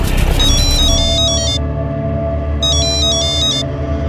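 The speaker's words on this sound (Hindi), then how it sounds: "बस पर उस दिन हमको फोन आया साहब" A phone ringtone plays as two bursts of bright electronic melody over a steady low tonal drone and background music, loud and close with no speech.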